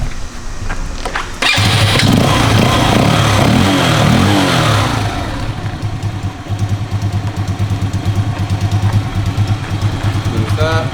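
A 2016 Kymco K-Pipe 124cc motorcycle engine is cranked and catches after a second, revving loudly with choke applied, then settles into a steady, pulsing idle close by.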